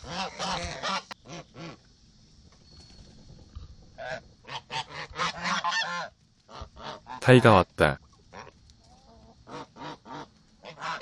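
Geese honk repeatedly in loud, harsh bursts, with one especially loud squawk midway, and a voice speaks briefly between the calls.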